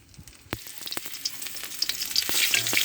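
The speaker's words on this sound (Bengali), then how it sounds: "এটা 2 পিস ভেজে রাখছি।" Two pieces of barramundi fry in a pan with a crackling sizzle that builds from sparse pops into a thicker, louder hiss, punctuated by sharp clicks of stirring.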